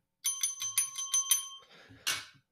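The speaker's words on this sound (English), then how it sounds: "I need to get a better bell here." A small hand bell rung to open the main segment of a livestreamed talk show, giving about seven quick, bright rings in a steady rhythm, then a brief rustle and one louder final clang.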